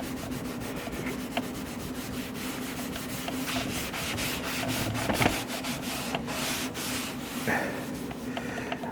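Continuous close scrubbing and rubbing against the stainless steel exterior of a Weber grill, a dense, steady scratchy friction with a few sharper scrapes, with no talk over it.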